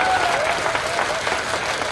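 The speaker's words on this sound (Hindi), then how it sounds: "Round of applause for yourself." A comedy show audience bursts into applause, dense clapping across the room, loud and close and sustained for about two seconds with a faint crowd murmur beneath.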